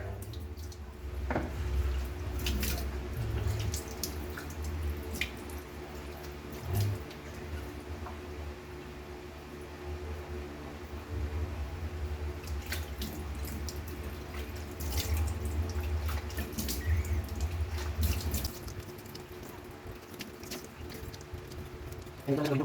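Lukewarm tap water runs into a sink or basin to bathe a six-week-old puppy, a steady low splash with occasional drips and clatters, fairly faint, with a voice talking now and then.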